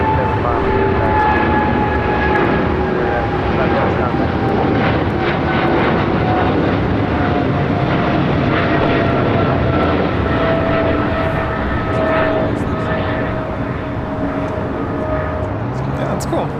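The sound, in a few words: American Airlines Boeing 777-300ER jet taking off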